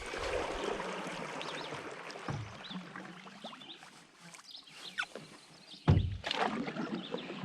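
Paddles dip and stroke through calm water from a canoe in the Boundary Waters wilderness, soft swishing and dripping close by, fading quieter midway before a couple of splashier strokes.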